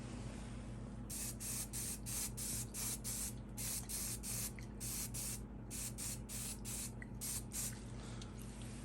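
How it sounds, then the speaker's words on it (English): Hairspray aerosol coating model tree foliage made from dried sedum for a slot car layout, a rapid series of short sharp spray bursts in quick rhythm over a steady background hum. "Now I'm going to go ahead and coat that one last time with hairspray just to lock that in."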